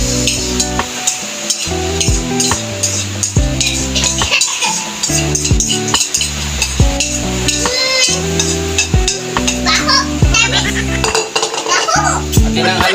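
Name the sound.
stirring food while frying in a pan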